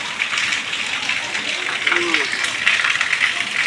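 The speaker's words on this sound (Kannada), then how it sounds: "ಹಾಂ ಮಳೆ ಆಗತ್ತಲ್ಲ" Rain keeps pouring in an even, close hiss with small crackling fluctuations, while a person speaks briefly beneath the downpour.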